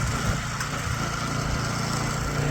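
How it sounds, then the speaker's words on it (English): Small engine, apparently a snowblower working in snow, drones steadily and continuously at close range, with a high buzzing tone and no voices. "Now buddy's plowing snow at the snowblower."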